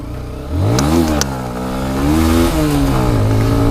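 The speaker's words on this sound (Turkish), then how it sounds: "Çocuklara ara gaz verdirdik." A Honda CBR motorcycle engine revs loud and close, pitch rising and falling through several throttle blips in a continuous roar with a couple of sharp clicks early on.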